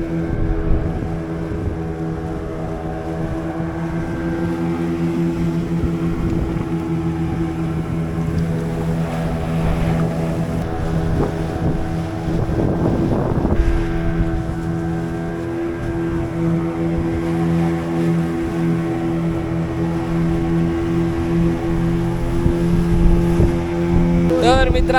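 A fishing boat's engine drones steadily and loudly at sea off Vengurla while out prawn fishing, a constant low hum with harmonic tones, joined by wind and water noise and occasional voices.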